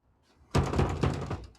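Police knocking hard on a door during a sting operation in Australia, a burst of loud, close thuds and raps, several blows in quick succession after a quiet moment.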